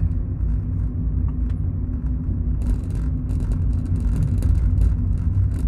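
Interior rumble of a car on a short drive to the bank, a steady low engine and road drone with some tire and wind hiss building midway, continuous and fairly loud with no talking.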